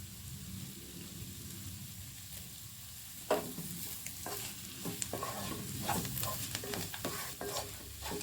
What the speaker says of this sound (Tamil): கத்திரிக்காய் வந்து நம்ம ஏற்கனவே வேக வச்சதுனால இதில் சும்மா ஃப்ரை பண்ணிக்கலாம்